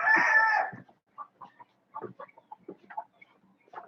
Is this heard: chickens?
yes